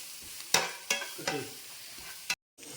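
Onions sautéing with pepper powder in a pan are stirred in three or four distinct scraping strokes over a soft steady sizzle, close up and without talk.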